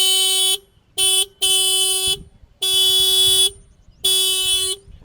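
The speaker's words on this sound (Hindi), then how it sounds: "तो ऐसा कुछ आपको हॉर्न देखने को मिलेगा" An Ather Rizta electric scooter horn sounds in five loud, close, steady electronic honks of varying length, a short one, a long one, then three more, separated by near silence.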